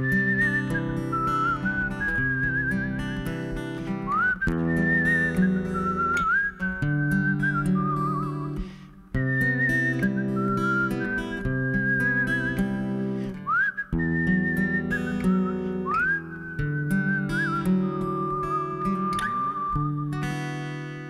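A melodic whistled tune carries on steadily throughout, close and fairly loud over a sustained instrumental accompaniment, with short pauses between phrases and no talking.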